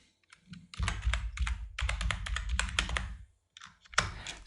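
Rapid typing on a computer keyboard during a DaVinci Resolve session, with a dense run of close, crisp key clicks, a brief pause, then a few more presses, and no talk.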